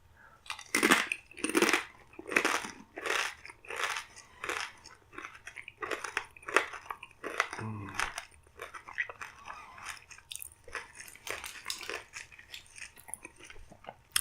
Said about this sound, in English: They're very crispy, very crunchy.